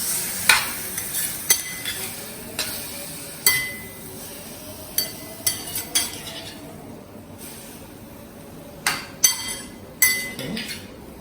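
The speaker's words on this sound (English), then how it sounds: "Just saute it. That's it. You don't have to cook much." A spoon clinks sharply and repeatedly against a pan while bottle gourd and chana dal are sautéed, with a faint sizzle underneath and no talking.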